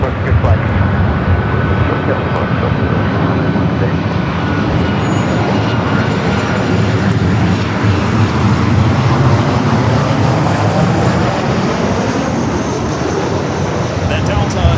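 An airliner roars down the runway on takeoff at Los Angeles airport, a loud, continuous, broad engine rumble that holds steady throughout.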